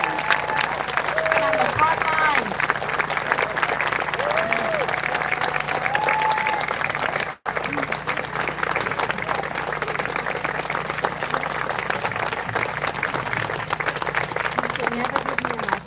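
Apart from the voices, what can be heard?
audience applause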